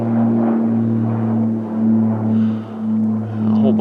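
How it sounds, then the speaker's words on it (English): A low-flying private plane drones steadily overhead above a wooded hillside with hemlock and club moss, its engine hum continuous and fairly prominent, swelling and fading slightly as it passes. "Oh, low flying private plane there."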